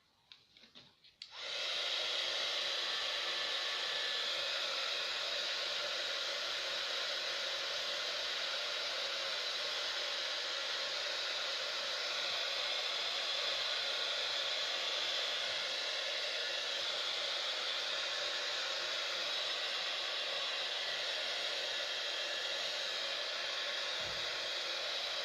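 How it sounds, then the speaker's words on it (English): A heat gun blows steadily to dry ink on an art journal page, starting with a brief click and then holding a constant, fairly quiet airy whoosh without break or voices. "I'm going to hit that with the heat gun again"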